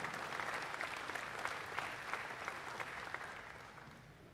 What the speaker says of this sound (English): A round of applause again as they exit the ring.